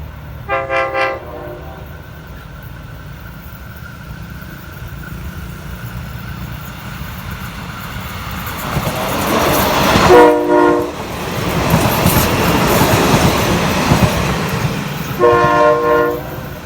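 Ordinary train 262 from Hua Hin to Bangkok sounds its horn in loud blasts at the start, middle and end, with rumbling rail noise and wheel clatter building as it passes close by.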